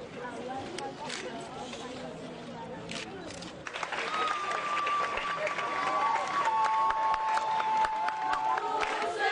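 Administrative staff from Orange applaud a performance at the Main dans la Main orphanage in Bonamoussadi, a broad wash of clapping and crowd noise that swells midway and continues steadily, with sustained tones and voices mixed in.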